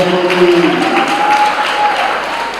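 An audience applauds a student speaker at a schools debate championship final, a sustained wash of clapping from a crowd in a hall, moderately loud.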